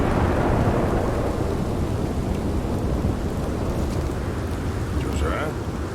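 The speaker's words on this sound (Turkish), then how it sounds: "Ama yağmur sesi aşırı fazla." Heavy rain pours steadily in the video game Red Dead Redemption 2, with a low rumbling thunder bed throughout, loud and continuous.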